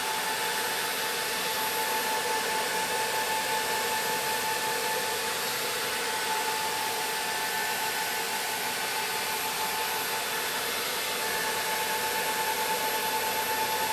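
Welding closes the root pass on a 2 inch pipe combo weld, a steady, even hiss and buzz of the arc with a faint high whine, continuing alone without pause.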